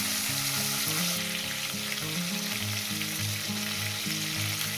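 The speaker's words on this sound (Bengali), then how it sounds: "মাছগুলো প্রথমে ভেজে নিতে" Pieces of rohu fish frying in hot oil, giving a steady, dense, close crackling sizzle that fills the whole stretch without letting up, over a low steady hum.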